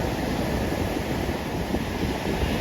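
Continuous roar of sea surf washing on the shore at Beemapally, Thiruvananthapuram, under rain clouds, steady and fairly loud, with some wind noise mixed in.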